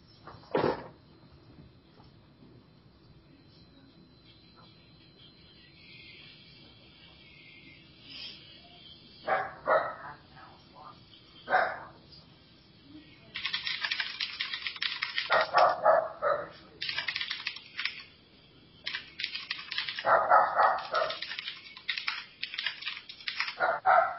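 A dog barks in scattered bursts, a few single yips early on and then clustered, louder barking toward the end, fairly close in a quiet indoor room.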